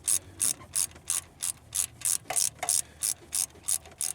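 A socket ratchet clicks in about a dozen crisp, evenly spaced bursts, loosening 15mm engine mount bolts on a Pontiac Aztek engine during teardown; close and loud, with no talk.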